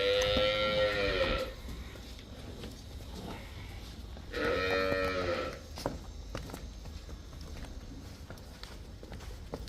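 A buffalo moos twice, long and loud, with a pause between calls, over faint rustling and shuffling sounds nearby.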